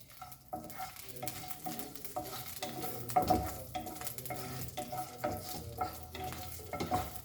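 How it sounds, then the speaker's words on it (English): Masala with bay leaves frying in a pan for Goan crab curry, a soft continuous sizzle under intermittent scraping and clinking of a utensil against the pan, with no voices. "So bay leaves and all this goes here, and let it fry"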